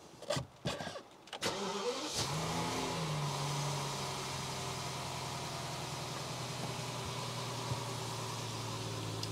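A BMW car engine cranks briefly, catches and roars to life, then settles into a steady, loud idle hum nearby.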